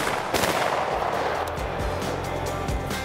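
A shotgun loaded with HEVI-Shot shells fires during an outdoor quail hunt. One loud blast comes near the start, followed by a rumbling outdoor wash.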